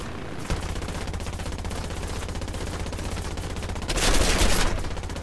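Aircraft machine guns on an Arado 196 A-3 floatplane fire in the War Thunder video game, a steady rapid rattle of bursts that swells louder and denser near the end, with no talking.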